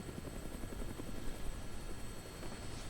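A helicopter flying in Dead Rising gives a continuous rotor thrum and engine whine, steady and fairly close, alone without talk.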